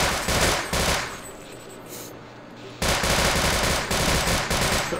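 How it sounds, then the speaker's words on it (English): Sustained machine gun fire in the game Sven Co-op blasts in loud, rapid bursts, breaks off briefly in a quieter lull, then resumes at full force and keeps hammering to the end. "He doesn't stop shooting ever."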